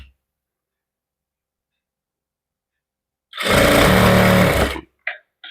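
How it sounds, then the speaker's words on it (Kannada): A sewing machine stitches fabric piping in a burst of rapid mechanical whirring lasting over a second after silence, then two brief restarts. "ನೋಡಿ, ಈ ರೀತಿಯಾಗಿ ಸ್ಟಿಚ್ ಆಗ್ತಾ ಬರಬೇಕು."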